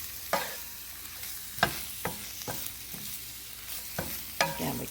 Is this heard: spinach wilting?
yes